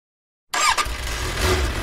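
After half a second of silence a vehicle engine cranks and catches at close range, settling straight into a loud, rumbling idle.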